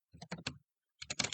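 Short bursts of computer keyboard typing as a file name is entered, a few quick clusters of keystrokes, a brief pause, then another rapid run, close and fairly quiet with no talk.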